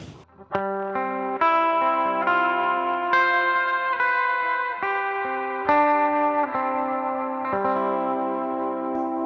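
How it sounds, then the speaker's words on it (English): An electric guitar plays a slow sequence of sustained chords and notes, shimmering and wavering with a chorus effect pedal, with no voices. "Let's just hear what that chorus sounds like."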